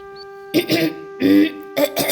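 A person coughs three times in short harsh bursts, close to the microphone, during a comic stage skit at a school event, with a faint steady tone in the background.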